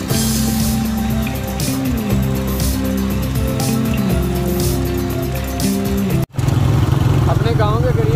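A motorbike cruises along a road at speed, its steady engine drone and rushing wind noise filling the recording loudly, with a brief dropout near the end before the ride noise resumes along with faint voices.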